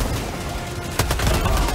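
Minigun fire in Helldivers 2, a harsh continuous rattle that swells into a sharper, louder burst of rapid shots partway through, set against dense battle noise.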